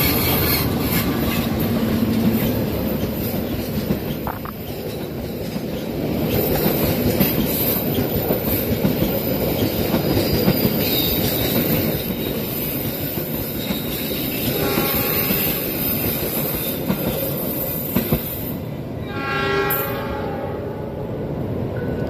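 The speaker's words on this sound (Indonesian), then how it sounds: "Kereta api Lodaya Pagi telah melintas relasi Solo Balapan stasiun akhir stasiun Bandung." The Lodaya Pagi passenger train, running from Solo Balapan to Bandung in Indonesia, passes close by with a loud, sustained rumble and clickety-clack of wheels, fading slightly toward the end.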